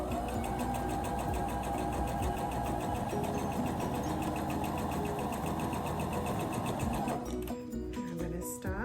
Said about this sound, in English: So I'm gonna sew the first two together in each row.